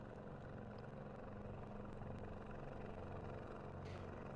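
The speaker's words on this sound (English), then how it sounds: "helicopter in the air" A helicopter flies somewhere overhead as a faint, distant rotor drone. It stays low and continuous under quiet outdoor background noise.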